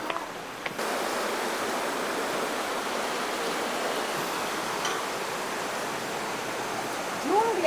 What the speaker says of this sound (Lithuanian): Pagal upelio dydį, tai manau, Krioklys nebus kažkokio tai įspūdingo dydžio irgi.